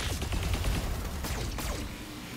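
A Battletech mech fires a precision strike at a Jaeger mech, a rapid volley of sharp gunfire bursts and impacts rattling in quick succession, loud and close.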